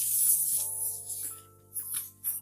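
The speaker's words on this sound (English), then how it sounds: "I'm just using my coconut oil spray" Coconut oil cooking spray hisses from a can in a few short, airy bursts, close and fairly quiet, with brief gaps between sprays.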